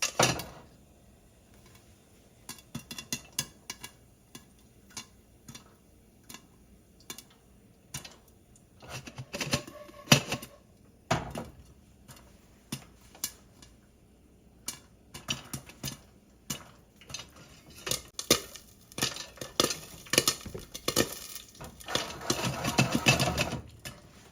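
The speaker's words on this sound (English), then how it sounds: "I'm going to stir it a little bit, shake it around." Popcorn is stirred and shaken in a pot on a stove top, giving irregular bursts of clattering, rattling kernels against metal, sparse at first and then denser and louder near the end.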